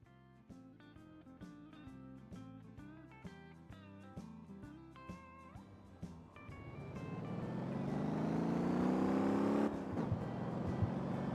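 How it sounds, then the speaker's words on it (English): A small bus engine in the video game Motor Town hums under soft music at first, then swells into a rising, steady drone that grows louder and dominates. "I got the engine noise turned way down, and it's still the dominant thing you hear"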